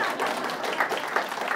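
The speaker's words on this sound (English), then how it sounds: "you must clap after I've said it" An audience at a Bhagavad Gita talk claps together on cue after a Sanskrit phrase, a short, dense burst of hand claps filling the room at moderate level.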